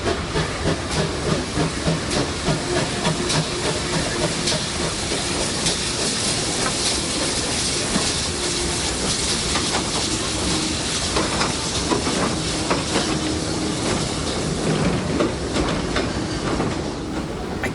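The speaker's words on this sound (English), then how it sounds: "Our wait was broken up by the arrival of the demonstration freight behind 7714, returning the train to be stored for the night." Steam locomotive 7714 arrives at the Severn Valley Railway spring steam gala hauling a demonstration freight train, a continuous loud hiss of steam over rumbling, clanking wagons rolling past close by.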